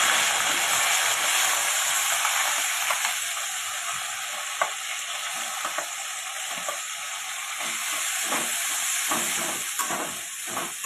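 Onion paste frying and being stirred in a pan, a loud continuous sizzle and hiss close up, with occasional scraping clicks from the stirring.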